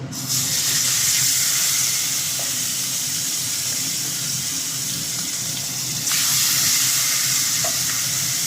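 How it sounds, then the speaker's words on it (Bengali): Hilsa fish fry in a hot pan of oil with a loud, continuous sizzle and scattered small pops, the hiss swelling sharply again near the end as more pieces go in. "এই ইলিশ মাছগুলো এবার আমি এক এক করে ছেড়ে দেবো।"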